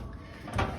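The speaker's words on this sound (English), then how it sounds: "we can open up this drawer, which is full of beautiful, brightly colored birds called minivets from Asia" A wooden specimen drawer in a museum bird room is pulled open, a single short scraping slide with a soft knock in a quiet room.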